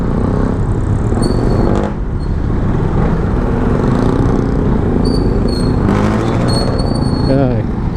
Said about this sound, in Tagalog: Ganito pala 400cc na motor oh.